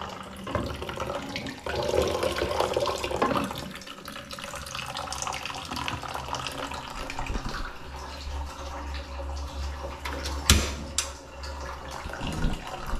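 Tap water running weakly from a faucet into a sink, a steady thin rushing and splashing that continues for about thirteen seconds with no one speaking.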